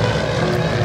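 Radial-engine propeller airplanes flying at a military air station airshow, a loud steady droning engine roar filling a brief moment with no voices over it.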